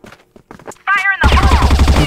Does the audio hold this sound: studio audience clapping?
no